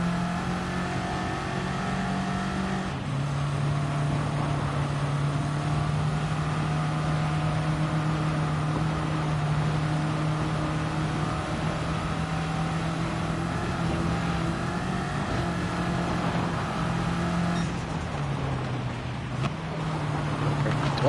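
A car engine droning while rally driving in Gran Turismo 7, with a steady low hum and shifting revs held almost throughout, one brief gear change near the end, with no voices over it.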